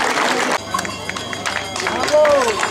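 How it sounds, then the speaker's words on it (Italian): Applause from the crowd at a goat show prize-giving in Valgoglio, a continuous clatter of clapping mixed with crowd babble and someone talking over it throughout. "E scatta l'applauso"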